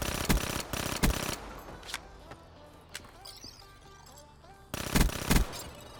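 Bursts of automatic gunfire crack out in a multiplayer shooter match, two loud rapid volleys at the start and end with scattered single shots and quieter game noises between.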